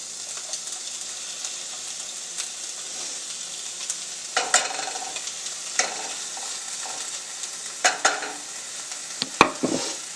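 Onion cooks in butter in a pan with a soft, steady sizzle, punctuated by occasional stirring scrapes and clinks of a utensil that grow a little more frequent toward the end.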